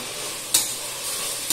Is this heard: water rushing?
no